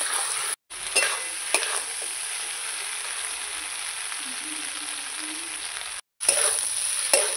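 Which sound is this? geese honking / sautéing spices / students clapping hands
sautéing spices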